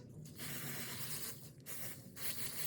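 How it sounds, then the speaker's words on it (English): Three bursts of Pantene anti-humidity aerosol hair spray hiss close by, each a second or less, separated by short pauses. "Apply this first, this Anti-Humidity Spray from Pantene."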